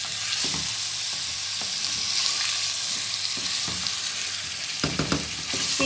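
Chicken pieces coated in spices stirred in a hot frying pan, a steady close sizzle with repeated scraping stirs of the spoon through the meat.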